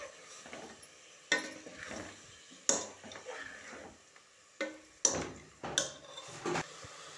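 Goat curry being stirred in oil in a pot, with repeated scraping and clinking of a utensil against metal in irregular bursts over a soft sizzle, close and with no talking.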